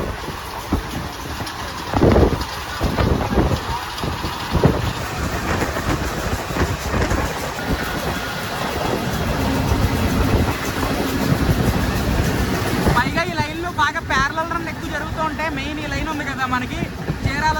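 The Krishna Express passenger train runs on rails between Adilabad and Tirupati, with a continuous loud rumble and wheel clatter, rhythmic clicks and rattles, and a voice speaking partway through.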